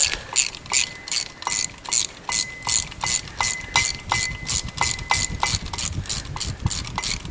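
A hand ratchet wrench works on the exhaust of a 1988 Mercedes 300e with a 2JZ engine: quick, evenly repeated clicking swings, about a dozen or more close, crisp ratcheting strokes in a steady rhythm.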